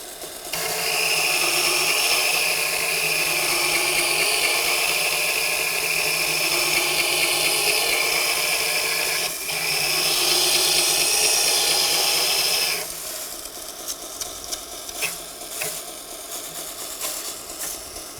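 A hand tool is sharpened on an Axminster Ultimate Edge powered sharpener, a steady grinding whir with a constant scraping rasp that runs for several seconds, dips briefly, then cuts off, leaving faint handling clicks.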